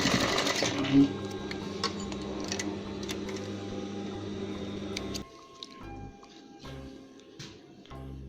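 A sewing machine stitches a cloth 3D face mask, running in a steady rapid whir for about five seconds, then stopping and leaving a few scattered clicks and handling noises.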